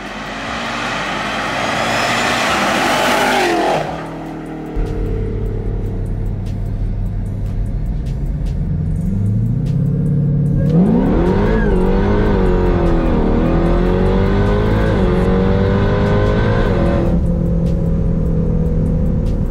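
An 1100-horsepower Jeep Trackhawk engine roars loudly under hard acceleration, with a surging rev, a short dip as it shifts, then a long climbing wail and further gear changes, close and dominant with no talk.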